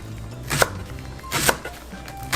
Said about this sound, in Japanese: じゃあこれらをもうねザックザックと切っていきます。